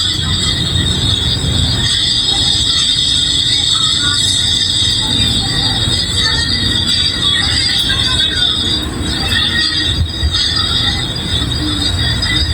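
Loud, sustained high-pitched squealing of train wheels on rails over a constant rumble of a moving train, with faint voices underneath.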